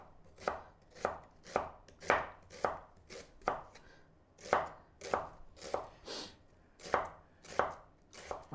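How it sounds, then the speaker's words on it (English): A knife chops onions on a board in steady, evenly spaced crisp strokes, around fourteen close and clear thuds with no talk over them. "I'm chopping onions"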